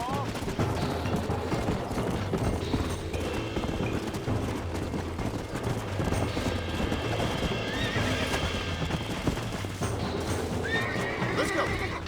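Horse in Red Dead Redemption snorting and neighing while hooves clip-clop steadily, close and continuous, over a dense game soundscape with someone talking to the animal.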